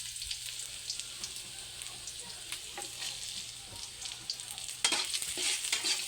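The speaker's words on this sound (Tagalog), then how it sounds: "Igisa natin ang bawang." Garlic sautéing in oil for sisig crackles with a steady frying sizzle and stirring scrapes, growing louder and denser near the end, no voices.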